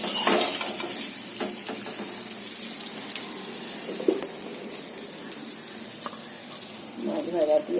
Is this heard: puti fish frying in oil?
yes